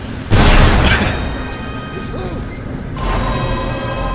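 A loud crashing blast in the wizard video game Magicka bursts in near the start and trails into rumbling debris, with a second swell of noise toward the end.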